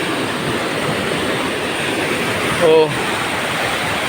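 Flood water rushing down from the mountain, a loud steady broadband roar filling the whole clip, with a brief voice exclaiming over it.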